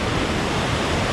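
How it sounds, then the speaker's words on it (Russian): The Upper Düden Waterfall in Antalya, Turkey, gives a loud, continuous rushing roar of falling water, steady and unbroken, with no voices. "приезжайте сюда, на Верхний Дуденский водопад"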